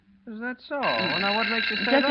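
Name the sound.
telephone ringing in radio drama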